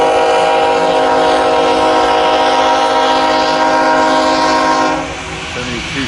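A Norfolk Southern freight train rolls west through Fremont, Nebraska, with foreign-power locomotives. Its horn sounds loud and steady under the rumble of passing cars, then eases off near the end.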